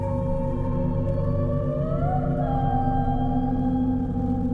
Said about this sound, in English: In 1997, scientists from NOAA recorded a sound in the Deep Pacific.